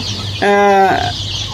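A single hen's call on a poultry farm, a short harmonic squawk lasting about half a second, rising clearly above a steady low background hum with no talking.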